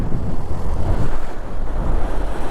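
Strong wind and rough sea on the coast at Zai on the Maharashtra border, facing Daman: a loud, continuous roar of gusting wind buffeting the microphone over churning surf, with no talk.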